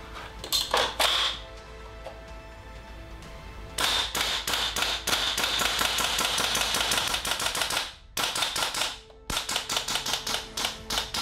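Rapid bursts from a WE G36c gas blowback airsoft rifle: sharp, crisp clacking shots in quick rhythmic strings, with short pauses between volleys, close and loud with no talk.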